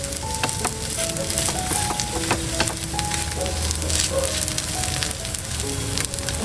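Wheat flour snack frying in a pan, a steady close sizzle with faint clicks and light stirring, over soft background music.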